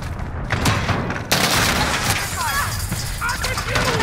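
Heavy explosions and gunfire from the Call of Duty: Modern Warfare video game, including an RPG blast, build into dense, loud bursts with a sharp boom around the midpoint and continuing battle noise.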